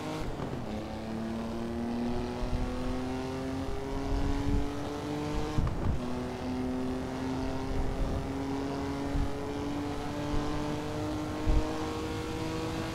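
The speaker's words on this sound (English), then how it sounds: "Great sound from that engine." A Maserati 250F vintage race car in the Assetto Corsa racing game, its engine climbing steadily in pitch through the gears with a raspy, droning note, broken by a quick upshift midway, loud and continuous.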